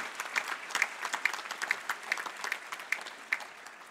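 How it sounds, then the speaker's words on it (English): Applause at a university graduation ceremony, a sustained round of many hands clapping at a distance, steady and moderately loud with no talk over it. "Let's give everyone, including the dog, a massive round of applause."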